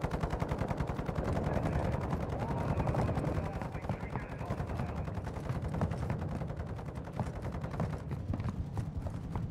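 Rapid automatic gunfire from a sentry gun in Call of Duty DMZ, with dense repeating shots that run continuously throughout amid other game noise and occasional voices.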